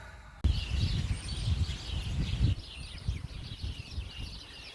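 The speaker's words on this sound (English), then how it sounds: "So many birds in that bush." A dense chorus of birds chatters and sings continuously nearby, busy and overlapping, over low rumbling background noise.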